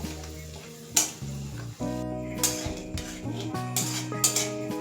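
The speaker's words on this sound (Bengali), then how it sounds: "এবার ফোড়নটাকে কিছুক্ষণ ভেজে নেব" Dried red chilies and cumin seeds fry in hot oil in a pan, with metal utensil clinks and stirring scrapes over a soft sizzle, and some music playing underneath.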